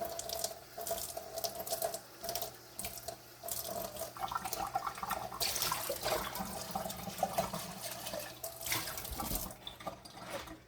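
Kitchen tap water runs continuously into a sink as cans are rinsed, with fluctuating splashing and some clattering, fairly faint and with no talking.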